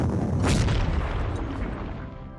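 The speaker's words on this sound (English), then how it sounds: "Bit more suppression by the artillery." Artillery fire in the strategy war game Panzer Corps: a heavy booming blast with a rumbling low roll that slowly fades over a couple of seconds, no speech.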